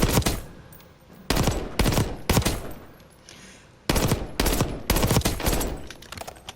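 Bursts of XM4 rifle fire from Call of Duty Black Ops 6, fitted with a rapid fire mod: five loud, sharp clusters of shots separated by brief pauses, close and alone with no talk.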